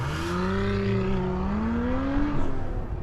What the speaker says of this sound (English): If you keep the revs down, it's really kind of quiet back there.